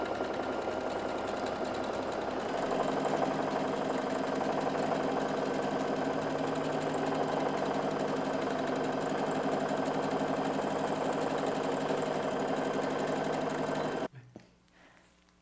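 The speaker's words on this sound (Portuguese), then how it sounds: "Vou fazer uma costura de segurança bem na beiradinha, unindo todas as camadas do fundo da nossa lancheira." A sewing machine runs a continuous securing stitch along the edge, joining all the bottom layers of a thermal lunch bag. The whirring is steady and loud for about fourteen seconds, then stops abruptly, leaving a few faint handling noises.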